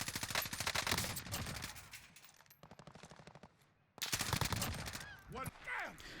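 Video game gunfight in Warzone on an open stretch of map: rapid automatic weapon fire in loud bursts, a quieter pause with a brief near-silence, then another heavy volley followed by trailing shots and whizzing sounds.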